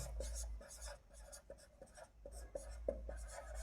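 A pen or marker scratches steadily across a surface while a table is drawn for a physics lesson on image formation by a concave mirror, repeated short strokes at close range in a quiet room.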